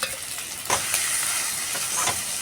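Chopped tomato and ginger-garlic paste fry in oil in a pan, a loud close sizzle with sharp spoon scrapes and stirring strokes over a brief stretch.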